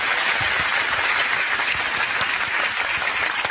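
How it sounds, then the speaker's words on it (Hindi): Steady crowd clapping from an audience at a poetry-style stage event, dense and even throughout with no talking over it. "तालियां"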